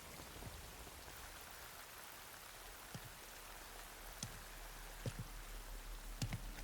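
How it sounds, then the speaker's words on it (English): Steady rain falls in a Metal Gear Solid Delta scene, a soft, even hiss of drops with occasional sharper drips and splashes standing out, fairly quiet throughout. "You can entertain me until the rain stops."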